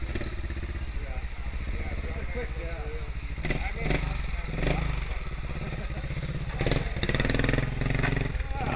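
A KTM Freeride trials motorcycle engine labours and revs as the bike picks its way up a rocky ledge, steady mid-pitched chugging with sharper throttle bursts, heard at moderate distance under occasional speech.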